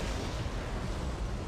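Ork artillery in Dawn of War pounds as a dense, continuous low rumble of booming fire, loud and unbroken for its short length with no voices.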